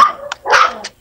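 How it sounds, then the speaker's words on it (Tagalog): A dog barks loudly and close by, two or three sharp yips and barks in quick succession, with no talking. "Bawal yun. Maingay yung aso."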